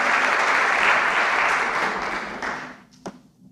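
A church congregation applauds loudly and steadily for a few seconds, then the clapping fades out, leaving a brief quiet tail with a single sharp knock.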